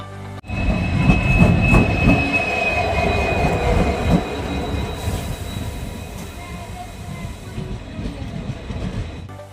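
The Rajyarani Express overnight train from Vaniyambalam to Kochuveli in Kerala rumbles loudly close by on the rails, with rattling carriage clatter and faint wheel squeal throughout.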